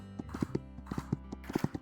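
Horse hooves clip-clopping in the video game Horses of Hoofprint Bay, a brisk, uneven run of close hoofbeats over a steady low game backdrop.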